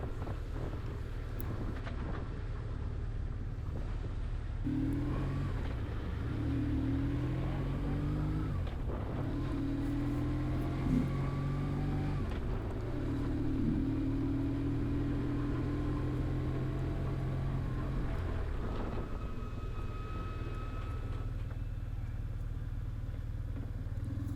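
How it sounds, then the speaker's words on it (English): A motorcycle engine revs and climbs through rising gear pitches, steady and close, with wind noise buffeting throughout, on a ride through Evanston. "So I use the power of the motorcycle."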